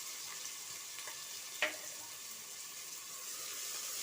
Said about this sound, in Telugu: అది బాగా ఆయిల్లో వేగనిద్దాము